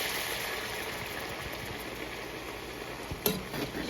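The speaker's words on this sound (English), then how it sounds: "I'm going to add that whole can of beer in." A whole can of beer poured into a pan of browned garlic and quail drippings gives a steady, fairly loud rushing hiss throughout, ending in a sharp clink and a few light knocks.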